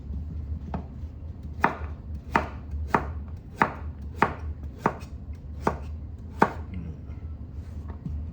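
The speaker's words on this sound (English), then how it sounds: "you be careful cutting up things with a knife" A knife chops vegetables on a board for an Ital stew, giving about ten crisp, evenly spaced strikes over a steady low background hum.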